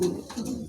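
A matched pair of nearly tailless fancy pigeons coos close by, with a low throaty murmur repeating in short soft pulses.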